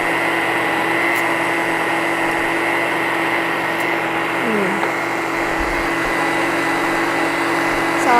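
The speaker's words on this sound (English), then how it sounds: "I would just use your blender." A blender runs continuously while making plant milk, giving a loud, even motor whine and hum that holds steady from start to finish.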